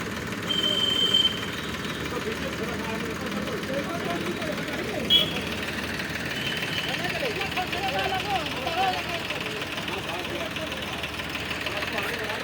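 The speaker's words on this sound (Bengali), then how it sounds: "একটা ট্রাক্টর ছেড়ে ছেড়ে নামাচ্ছে।" A tractor engine runs at a steady idle-like rumble while being unloaded from a truck, a continuous mid-loud drone with occasional clanks and people talking over it.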